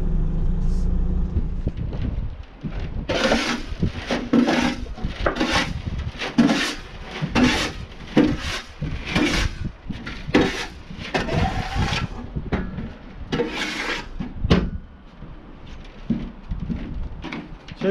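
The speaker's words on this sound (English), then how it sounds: "I've just tipped the tarmac asphalt out of the truck" An HGV tipper truck tips out tarmac asphalt waste, producing a run of heavy thuds, clatters and scraping bursts with a low engine rumble underneath, close and fairly loud.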